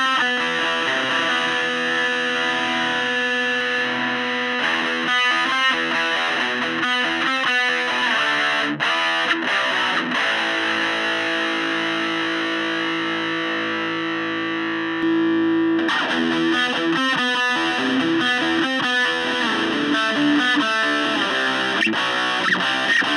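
Distorted electric guitar runs through a cabinet impulse response captured with a D112 kick drum microphone, giving a lo-fi tone. Sustained riffs and chords play loud and close throughout, with a short held note before a heavier section resumes.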